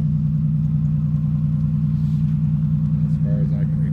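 A fuel-injected 1988 Oldsmobile Cutlass Ciera with a blown muffler idles close by in a loud, steady, low droning rumble, with faint speech-like sounds toward the end.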